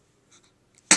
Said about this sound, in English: don't sneeze on him